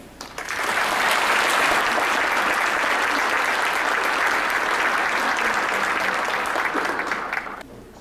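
An audience breaks into loud, sustained applause to welcome a speaker onstage, dense clapping that swells quickly, holds steady for several seconds, then fades out.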